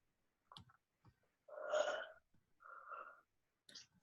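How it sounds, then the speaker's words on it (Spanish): A person yawns alone in a quiet room, a long breathy, drawn-out exhale rising and falling, followed by a softer trailing sigh and a few faint breaths and clicks. "Un bostezo por ahí."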